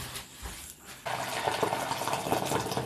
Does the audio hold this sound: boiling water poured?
yes